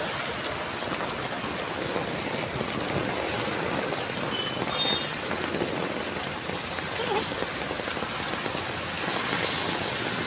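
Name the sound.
rain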